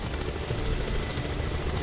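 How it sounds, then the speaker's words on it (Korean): Dense, steady rotor roar of a Kamov KA-32 coaxial helicopter hovering and maneuvering after takeoff, a loud broadband wash with no voices. "어느 정도 고도에 이르자 다양한 기동을 해보이는 헬기"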